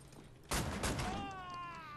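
Gunfire in Wolfenstein: The New Order, one sharp burst of shots followed by a ringing metallic tail that fades slowly, fairly quiet overall.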